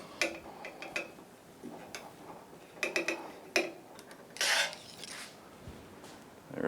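A Phillips screwdriver turns out a latch screw on a Suzuki GSX-R 1000 lock set, giving faint scattered ticks and scraping clicks close by, in small irregular clusters.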